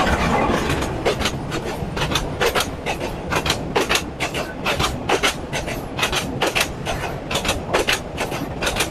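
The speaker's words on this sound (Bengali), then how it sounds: "ট্রেন চলে আসছে" A train crosses near the Teesta bridge, its wheels striking rail joints in a loud, fast, regular clickety-clack that continues steadily throughout, with no speech.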